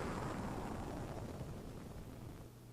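An explosion in the Kirby: Nightmare in Dream Land video game: a continuous broad roaring rumble, loud from the start and slowly fading over nearly three seconds, with no voices.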